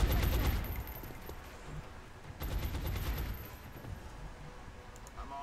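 Suppressive gunfire in X-Com Enemy Within, long bursts of rapid automatic shots: a loud volley at the start, a second sustained burst midway, then quieter trailing fire.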